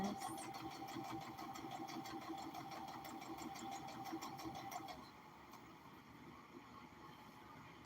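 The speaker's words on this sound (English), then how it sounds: "It's just this is the sewing process." A sewing machine runs steadily while stitching a circle skirt, its fast motor whir and needle chatter continuing for about five seconds before dropping to a quieter hum; faint and close, with no talking.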